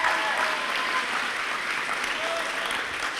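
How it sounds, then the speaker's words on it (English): A concert audience claps and cheers, a dense, continuous wash of applause filling the room at steady loudness for a few seconds, with no voices standing out. "I think they deserve another round of applause"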